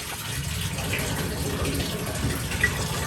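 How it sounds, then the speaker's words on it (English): Hotel bathroom faucets run steadily, a continuous close splashing gush of water filling the space without pause. "Now, these faucets are also running."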